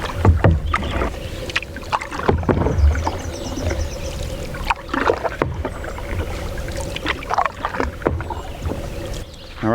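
Canoe paddling on open water in the northern back country: close, irregular splashes and knocks as the paddle dips and strokes, with wind buffeting the microphone.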